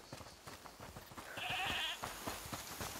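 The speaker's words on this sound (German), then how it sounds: "Hört mal, ist das die Ziege, die er meinte?" A goat bleats in the video game A Plague Tale: Requiem, one drawn-out call rising over a steady run of soft rhythmic ambient ticks and game background.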